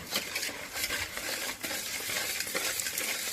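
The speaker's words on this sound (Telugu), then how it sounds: "పసుపు అది ఇలా కలుపుకోవాలండి" Turmeric being stirred into a hot mixture of buttermilk-soaked green chillies in a pan, a dense crackling sizzle with steady scraping stirs and faint utensil clinks.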